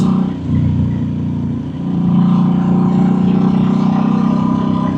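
A big motorcycle engine revs hard under throttle while riding, a loud continuous drone that dips briefly around the first and second seconds before climbing again and holding steady.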